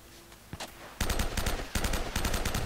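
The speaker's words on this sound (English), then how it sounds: "Man, this gun is awful." Rapid bursts of gunfire from a weak in-game gun in Uncharted: Drake's Fortune, loud repeated volleys starting after a quiet second, with a brief pause before more shots; no talk over it.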